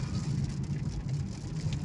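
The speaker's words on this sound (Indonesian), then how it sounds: "hujan mulai turun." Rain beginning to fall on a car during an end-of-year drive, a steady dense patter on the body and glass over a low engine rumble, close and even with no voices.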